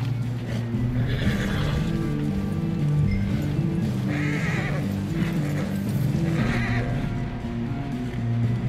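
A horse in the video game Red Dead Redemption 2 whinnies and snorts while hooves clip-clop steadily over a continuous low background, close and fairly loud.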